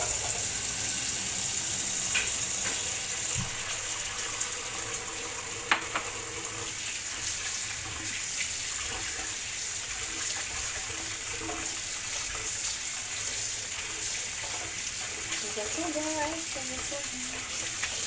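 Food for a Korean dish is rinsed under a running kitchen tap, producing a steady hiss of water with faint splashes and light clatter. It runs continuously and moderately close throughout, with a single sharp tap partway through.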